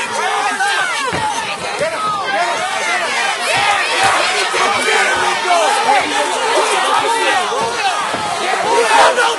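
Fight crowd yelling and cheering wildly in a dense, loud, continuous roar, with overlapping shouts and whoops throughout.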